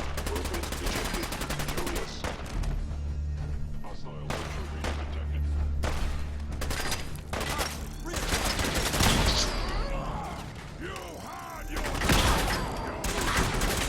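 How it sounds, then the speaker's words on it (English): A gauss rifle firing in Fallout 4 amid a chaotic battle, with dense, repeated sharp shots and booms over a constant low rumble, and a voice speaking intermittently. "Forgot I had a gauss rifle."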